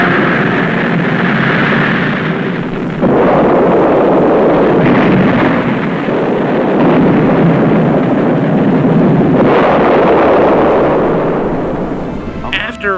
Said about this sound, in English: After Vanguard exploded on the launch pad